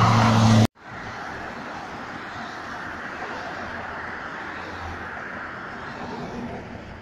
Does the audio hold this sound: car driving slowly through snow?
yes